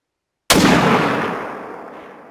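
A single rifle shot at fleeing wild boars in the hunting game theHunter: Call of the Wild: a sharp, loud, close report after a moment of silence, followed by a long, fading rumble and tail.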